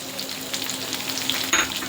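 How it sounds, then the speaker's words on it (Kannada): Thinly sliced onion fries in a pan with garlic, roasting until reddish, a steady close sizzle with light stirring scrapes and a brief sharper hiss near the end. "ಚೆನ್ನಾಗಿ ಸ್ವಲ್ಪ ಈರುಳ್ಳಿ ಕೆಂಪಾಗಲಿ, ರೆಡ್ ರೋಸ್ಟ್ ಆಗಿದೆ ಈರುಳ್ಳಿ"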